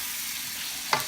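Pansit bihon is stirred and sautéed in a hot pan, with a continuous sizzle and a short scrape of the utensil near the end of this brief moment.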